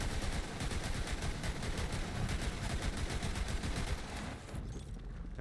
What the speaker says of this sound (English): you can shoot faster when you don't ADS